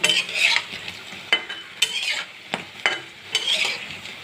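Prawn shells fry in a pan with a soft, steady sizzle, broken by repeated sharp clacks and scrapes of a spatula stirring against the metal, close and without talk.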